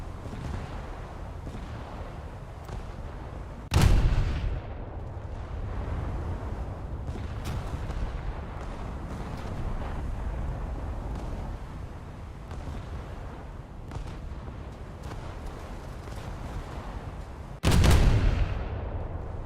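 Two heavy booms of enemy cruiser naval gunfire in a naval video game, spaced far apart over a steady low rumble of engine and sea ambience.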